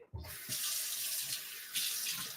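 Tap water runs steadily into a smoothie blender cup holding a little dishwashing liquid, a loud, close, continuous hiss of pouring that swells partway through, with no talking.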